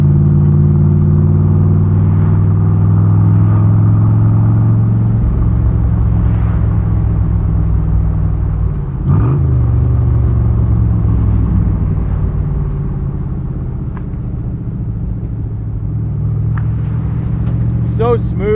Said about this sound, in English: let's just shut up and let the engine speak